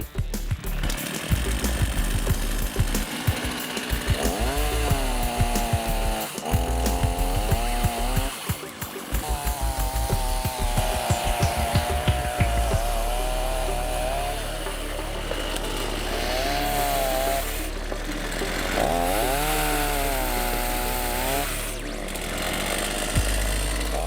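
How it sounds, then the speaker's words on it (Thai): A Eurox CS2001 petrol chainsaw with a 37.2 cc engine and 11.5-inch bar runs loudly and continuously, revving up and down in repeated whining surges between rough idling stretches. "การใช้งานเลื่อยโซ่ยนต์"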